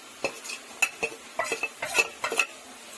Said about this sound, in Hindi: इसको भी अच्छे से हम भून लेंगे।